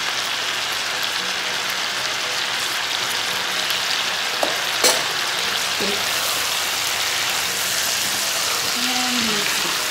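Kottayam-style Kerala beef fry sizzles hard over high heat, a dense continuous crackle with a few brief knocks and scrapes of stirring partway through.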